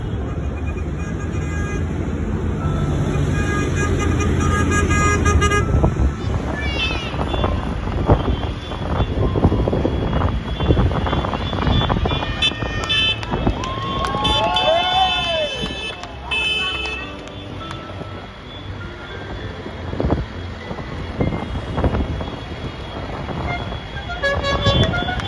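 Tractors, pickup trucks and farm vehicles honk during a farmers' road protest in New Zealand, with repeated horn blasts and toots over engine and road noise, and a voice speaking over parts of it.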